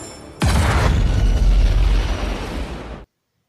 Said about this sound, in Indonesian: Mereka berdua pun langsung meledak.